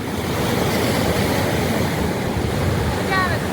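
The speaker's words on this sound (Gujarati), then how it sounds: "દીવનો દરિયો કિનારો મસ્ત બીચ છે હો" Sea waves washing onto the beach at Diu, a steady loud roar of surf with wind noise, heard close throughout with no clear speech.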